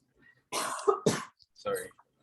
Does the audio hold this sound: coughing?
yes